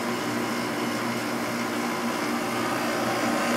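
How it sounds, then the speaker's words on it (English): A 5000 BTU window air conditioner running after about a minute of operation, a steady, loud broadband whir of fan and compressor with a faint low hum, unchanging and with no talk over it. "Again, this is a 5000 BTU air conditioner."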